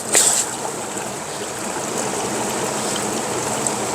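The Arkansas River flows nearby with a continuous hiss and burble. A brief louder splash comes at the start, then the rush of water carries on evenly throughout.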